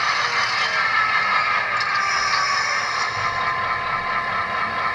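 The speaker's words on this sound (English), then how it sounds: "brake squeal" High, sustained metallic squeal from the brakes of a Rapido modernized FL9 model locomotive, a steady shrill ringing with faint mechanical clatter underneath, running continuously and fairly loud with no voices.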